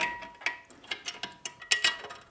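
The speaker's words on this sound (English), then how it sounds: "I like to quickly screw it in with the narrow part of the Allen wrench" Desk leg screws on a Huanuo sit-stand desk frame being turned quickly with the narrow end of an Allen wrench, a rapid series of light metallic ticks and clicks, close and uneven.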